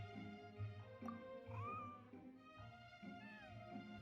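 A white, fluffy cat named Snowball in the game Genshin Impact meows several times, with rising and falling cries set over a steady musical background.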